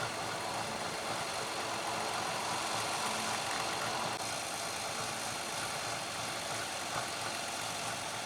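Steady low rumble of a tractor engine running on a crawler track, continuous and fairly distant, with broadband noise throughout and no talking.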